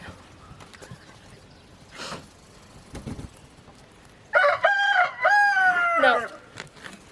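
A rooster crows twice in succession, loud and close, with chickens clucking and goats nearby in a garden; a few brief knocks and rustles come before it.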